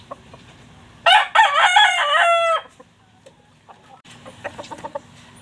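A fighting rooster crows once, loud and close, a long wavering call, followed by softer clucking and scattered farmyard noises.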